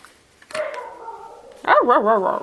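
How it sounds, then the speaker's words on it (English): A dog barks and yips close by in a quiet indoor room during a tarot reading, a couple of short sharp calls followed by a louder run of rising and falling barks, alone without talk. "That's my dog."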